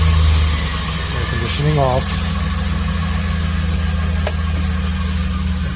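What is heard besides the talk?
van engine starting and idling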